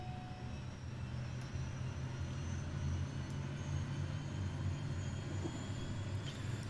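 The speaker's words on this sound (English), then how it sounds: "Love the engine sounds in this aeroplane." Aeroplane engine in a flight simulator game after ignition and fuelling for a flight from Kathmandu, a steady low droning hum with a faint high whine, constant and moderately loud with no talking.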